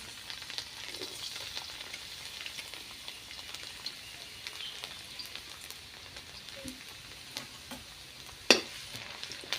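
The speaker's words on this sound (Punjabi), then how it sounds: "ਤੇਲ ਆਪਣਾ ਗਰਮ ਹੋ ਚੁੱਕਿਆ ਜੀ ਪਹਿਲਾਂ ਆਪਾਂ ਇਹਦੇ ਵਿੱਚ ਲਸਣ ਪਾ ਦਾਂਗੇ" Garlic frying in hot oil in a kadhai, a faint, quiet crackle and hiss with a few soft stirring clinks and one sharp clatter near the end, with no voices.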